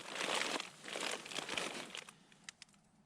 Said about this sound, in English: one thing about these Thermarest very, very warm pads is that they're known to be very noisy